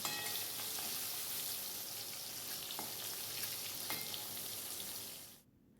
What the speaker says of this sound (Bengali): মাছগুলো কিন্তু এক পাশ লাল করে ভাজা হয়ে গেছে। এবার উল্টিয়ে দিলাম, ভালো করে আর এক পিঠ ভাজা হোক